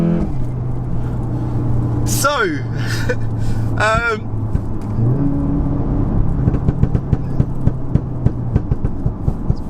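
A 600bhp VW Golf R with a loud aftermarket exhaust idles and revs nearby, its low steady drone rising in a couple of sharp rev sweeps early on, then settling into a rumbling burble with popping crackles, and someone speaks briefly over it.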